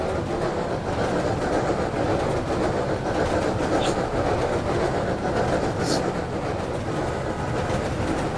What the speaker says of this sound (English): Porsche800's car just got hit by the train and it hit my car